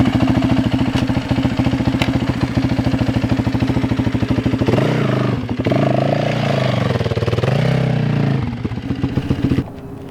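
Dirt bike engine during a slow foot-down U-turn, a loud close pulsing idle with a throttle blip and revving swell midway before settling back.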